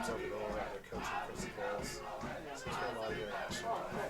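Crowd of fans shouting and cheering at a girls' high school soccer match between Glacier Peak and Mount Vernon, a steady outdoor roar of voices with bursts of yelling, moderately distant and continuous.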